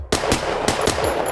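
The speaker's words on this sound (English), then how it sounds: "And now when I shoot this popper" Rapid string of gunshots fired in a Practisim shooting simulator at a steel popper target, about five sharp loud reports over roughly a second with short ringing tails, no talking.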